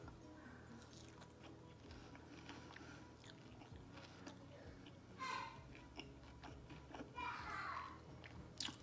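Crunchy WingStop chicken wings are bitten and chewed close to the mic, with several crisp crunching bursts over a steady background murmur and faint voices.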